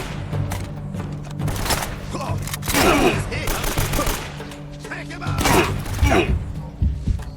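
Video game gunfire, including what may be shotgun blasts, bursts out in repeated loud volleys over dense game noise, with heavier blasts around the middle and toward the end.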